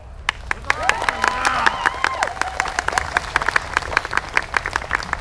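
A royal court audience claps in welcome for a king at a costumed medieval event, scattered and uneven hand claps of moderate loudness with voices talking over the top.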